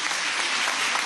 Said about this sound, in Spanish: un aplauso desde aquí